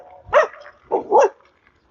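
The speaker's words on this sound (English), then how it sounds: "Now we got more dogs." Dogs bark in a quick burst: one sharp bark, then a pause and two close barks in a row, loud and near, with a faint trailing yip at the very end and no talking.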